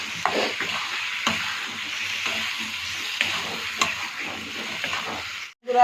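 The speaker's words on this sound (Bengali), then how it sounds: "মশলাটা দিয়ে যখন তেল ছাড়তে শুরু করছে, এবার আমি ডিমটা এর মধ্যে দিয়ে দেবো।" Egg frying in oil with spices in a wok-style pan, a steady sizzle broken by repeated scraping stirs, ending in a brief sharp clatter.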